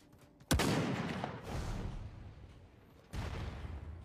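Gunfire in the online game Anarchy 77: a sharp burst of shots, then a second burst, with rumbling booming echoes between them, a little distant, no one talking.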